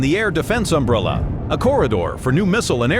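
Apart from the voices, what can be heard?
None of the usual background noises is heard.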